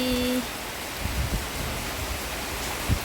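Rain falling as a steady, even hiss of broadband patter, continuous and fairly close, with a couple of faint nearby knocks and no voices.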